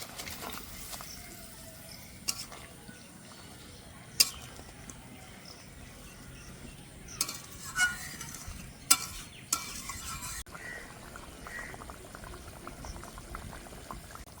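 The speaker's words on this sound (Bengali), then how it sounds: "ঝোলটা ভালো করে ফুটে গেছে, এবার আমি মাছগুলো দিয়ে দেব।" Katla fish pieces going into a boiling curry made with ground spice paste and no onion or garlic: steady bubbling throughout, broken by a few soft splashes and the scrape of stirring, with no voices.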